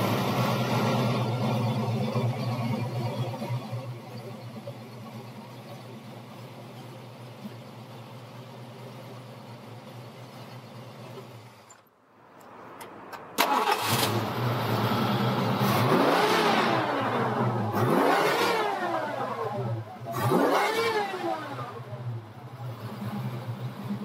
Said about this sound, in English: Now we'll start this 302 for you so you can hear it run.